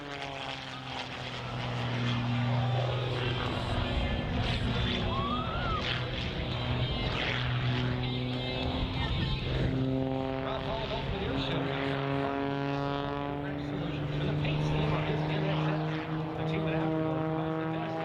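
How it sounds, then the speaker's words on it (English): An aerobatic propeller airplane performing at the Great State of Maine Airshow drones continuously with a sustained engine whine whose pitch slowly rises and falls as it maneuvers, fairly distant and steady throughout. "During today's performance, Rob will be experiencing more than 11 positive G's shoving him into the cockpit"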